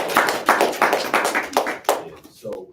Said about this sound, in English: Give 'em a clap